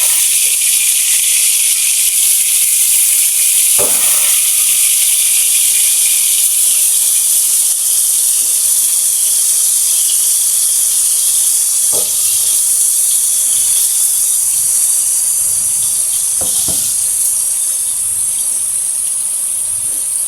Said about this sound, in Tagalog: I-stir fry lang natin ng konti.